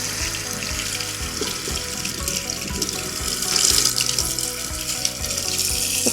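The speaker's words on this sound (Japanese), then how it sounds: "ちょっと水もつけながら洗い流します。" Tap water runs steadily into a kitchen sink while a sponge cleaning brush is rinsed, with a continuous hiss and splatter and faint scrubbing knocks, close up.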